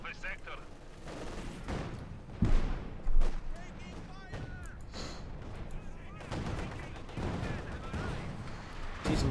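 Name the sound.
Maxim machine gun fire in video game Company of Heroes 2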